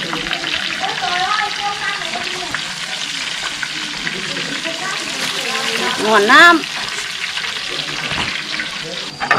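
KFC-style chicken wings fry in hot oil with a steady loud sizzle and crackle lasting throughout, while someone talks over it.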